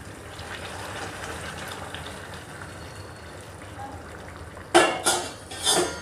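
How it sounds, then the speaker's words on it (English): Hot water poured into a pot of potato curry, a short splashing gush near the end after a quiet kitchen background, close and moderately loud. "And then I'll pour water, hot water."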